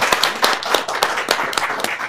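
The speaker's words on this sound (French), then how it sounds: "On l'applaudit à nouveau, s'il vous plaît" Close, brisk clapping from a studio audience on a French-language talk programme, a quick run of distinct, fairly loud hand claps blending with others, with no talk over it.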